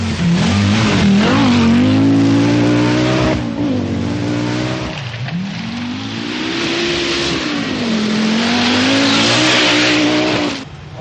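A 1985 Audi Quattro rally car races through Hafren Forest during the Welsh Rally, its engine loud and close, revving hard with rising and falling pitch through gear changes.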